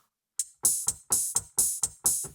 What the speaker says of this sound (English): we get a closed and an open hi-hat.